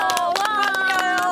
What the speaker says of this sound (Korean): 다시 한번 박수 한번 부탁드리겠습니다